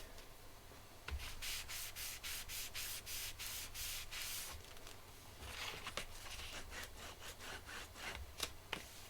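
A paper fold on a pocket for a standup recipe album is burnished with a quick series of close, soft rubbing strokes, followed by a few slower swipes.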